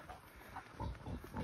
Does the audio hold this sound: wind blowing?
no